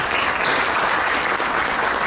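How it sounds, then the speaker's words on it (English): An audience at a book launch on nuclear non-proliferation gives a round of applause, a continuous, fairly loud patter of many hands clapping that never breaks. "So let us give them a huge round of applause."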